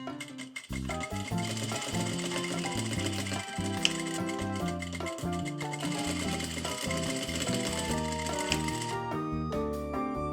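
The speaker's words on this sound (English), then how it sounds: "then we head over to the other sewing machine and add in our bone channels" Sewing machine running a zigzag stitch to sew bone channels onto a corset made from Pokemon cards, a loud, steady rapid needle clatter continuing for about ten seconds with brief pauses at the start and end.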